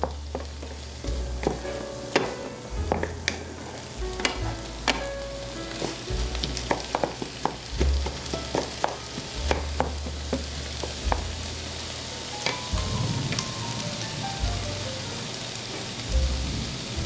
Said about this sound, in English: everything is done sauteing